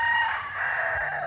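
A rooster crows in a single sustained call on a farm lot with goats, turkeys and a fish pond, loud and close with a steady, drawn-out tone and no talking.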